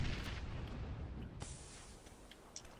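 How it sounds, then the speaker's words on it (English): A video-game grenade goes off in a short, loud booming blast that fades into a rumbling decay, with a sharp crack partway through and no talk. "We threw a grenade at me."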